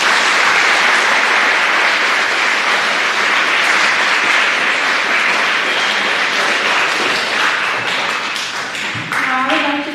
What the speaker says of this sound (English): applause for all of our veterans?